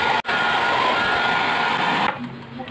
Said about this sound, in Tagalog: gagamitin natin ang blow dryer.